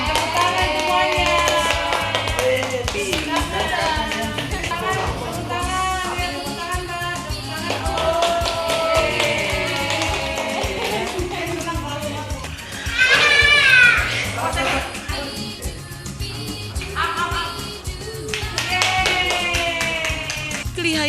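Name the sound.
hand clapping with children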